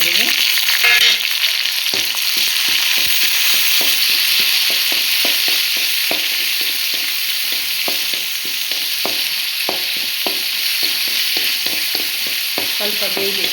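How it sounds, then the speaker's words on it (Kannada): Onions, green chillies and tomato frying in a pan for a Mangaluru-style clam sukka: a steady close sizzle broken by a quick run of sharp spatula scrapes and taps against the pan. "ಈರುಳ್ಳಿ ಹಾಕಿ ಹುರಿತಾ ಇದ್ದೀನಿ ನೋಡಿ"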